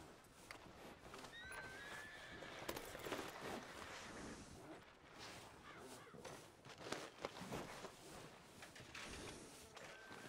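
A horse whinnies in the video game Red Dead Redemption 2 amid steady ambient noise and the clip-clop of hooves, with scattered footstep-like thuds throughout.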